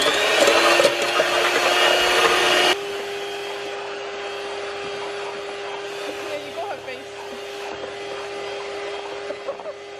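An electric whisk whirs steadily as it whips cream in a chilled bowl for a no-bake cheesecake, loud and close with a constant motor tone that drops slightly in pitch partway through.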